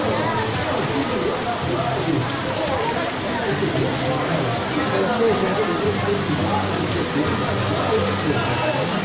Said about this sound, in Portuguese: A chuva não para, como vocês estão vendo aí.